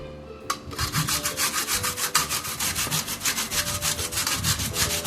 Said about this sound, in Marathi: मी ही जाळफळ किसणी घेतलेली आहे ह्या किसणीने छान बारीक किस पडते